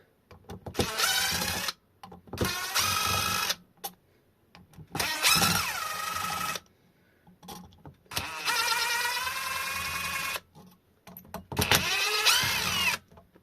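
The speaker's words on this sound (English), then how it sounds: "And we'll loosen off these Phillips head screws." A power driver with a large Posi 2 bit backs out long Phillips head screws from an e-bike hub motor, six separate loud whirring bursts with brief silent pauses between them, close and alone.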